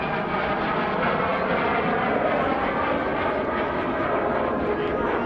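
A MiG-17F jet on an inverted pass at the Rhode Island ANG airshow produces a constant loud roar that holds steady throughout.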